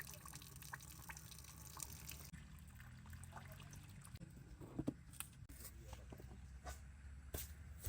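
Cooking water is drained off boiled rice for chicken biryani, giving a steady, faint pouring and trickling sound that runs throughout with no talking.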